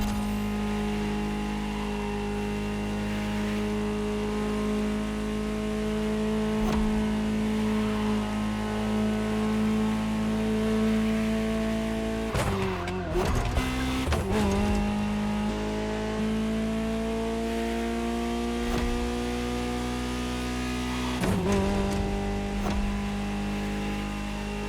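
Ferrari supercar engine driven in the video game The Crew Motorfest, a sustained mid-pitched engine hum that rises steadily, broken by two brief gear-shift bursts before settling again.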